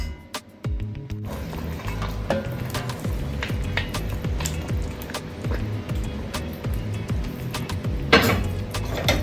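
A Dutch pan being handled on the stove during home cooking of a Sunday dinner, with metallic clinks, scrapes and knocks tapping irregularly over a steady background sizzle.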